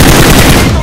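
Rapid tap-fired gunshots in a mobile shooter game, several close loud bursts packed into under a second with no pause between them.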